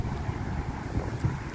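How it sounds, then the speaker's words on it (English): A strong gust of wind buffets an outdoor microphone among evergreen oak twigs, giving a steady low rumbling roar with several heavier surges, no voices. "we had a strong gust of wind"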